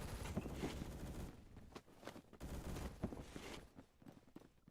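Gunfire from an AK-12M rifle in a Roblox shooter game, a string of rapid, fairly faint shots in short bursts with brief pauses between them.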